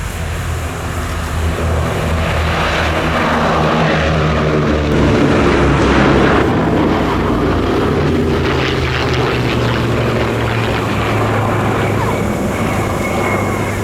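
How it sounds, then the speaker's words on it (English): A P-51 Mustang warbird takes off at an air show at Cosford with a loud, sustained piston-engine drone and propeller roar, steady and heard from a distance. "you can see taking off in fact, and here's the Mustang as well"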